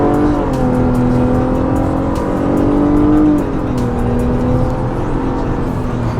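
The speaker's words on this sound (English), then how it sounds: "that old school type of Toyota Supra, that nice engine sound and all that good stuff that you get with older cars" An older Toyota Supra engine revs steadily, a loud, close harmonic drone that climbs in pitch, eases back around the midpoint, then holds, with faint ticking noise above.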